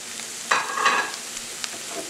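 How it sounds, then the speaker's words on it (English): Mushrooms cooking down in a frying pan for a mushroom sandwich, giving a moderate sizzle with a couple of brief stirring scrapes. "We're going to add some of the mushrooms. And we're going to cook these down."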